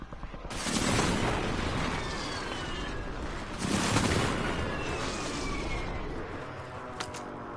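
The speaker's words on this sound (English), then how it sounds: "Enemy precision airstrike." Booming explosions from an enemy precision airstrike in the video game Call of Duty Warzone: two loud, rumbling blasts with sustained roar in between and a sharp crack near the end.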